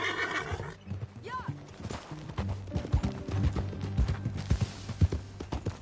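A horse in Red Dead Redemption 2 gives a loud whinny, then its hooves clip-clop in a steady rhythm while music plays and a voice talks over it.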